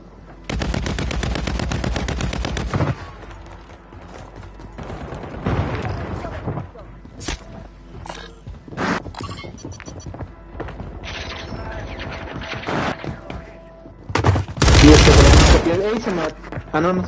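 Rifle fire in a video game, with long rapid automatic bursts at the start and end and scattered single shots and clatter between them, loud and close, while people talk.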